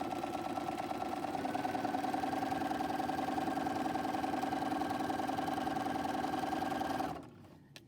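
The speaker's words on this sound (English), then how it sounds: "I'm just going to sew that down the entire length of my square, going from corner to corner" A sewing machine stitches a quilt strip from corner to corner, humming steadily with a fast, even whir for about seven seconds before stopping abruptly.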